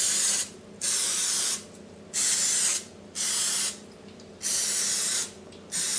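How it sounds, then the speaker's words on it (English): Olive oil sprayed over breaded green tomato slices arranged in baking pans, in a series of steady hissing bursts about a second long, each separated by a brief pause, heard up close. "Let's lightly spray on top of each tomato slice with olive oil."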